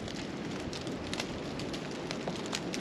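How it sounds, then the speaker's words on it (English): Chunks of ice falling from frozen trees on a cold Appalachian Trail mountaintop patter and crackle all around like rain, a dense steady scatter of small impacts with occasional closer hits, no talk. "chunks of ice that are falling out of the trees on me"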